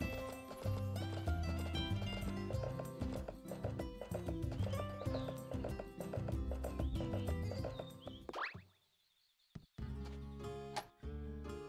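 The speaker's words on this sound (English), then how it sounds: "Let's go take the horse out." Horse hooves clip-clop steadily in the Story of Seasons: A Wonderful Life farming game, the rhythmic trotting mixed with background game music and a brief whinny, running continuously before a short pause near the end.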